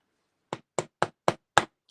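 A hammer tapping down a loose hammerhead, five sharp, evenly spaced knocks about a quarter second apart, close and crisp against a silent background.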